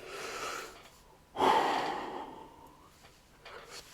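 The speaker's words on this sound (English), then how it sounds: "Sorry again, I'm yawning." One person yawns with a long, breathy exhale that swells abruptly and fades slowly, close and fairly quiet, with softer breaths before and after.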